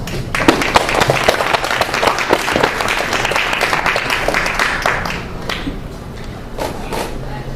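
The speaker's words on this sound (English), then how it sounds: "So please give him a round of applause." Applause breaks out from an open-mic audience at a university gathering, dense clapping at fairly loud level for several seconds before thinning and tapering off near the end.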